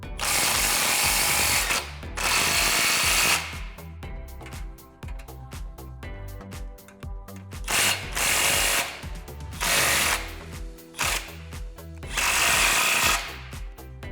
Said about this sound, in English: I'm going to snug up my clamps so that they hold things in place, but not fully tighten them down